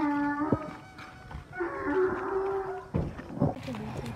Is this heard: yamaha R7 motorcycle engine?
no